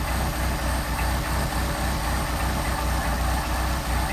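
A Mercedes 190SL engine fitted with Solex carburetors idles steadily at about 800 rpm, a continuous low, even rumble with a regular pulse, close and loud, with no voices over it.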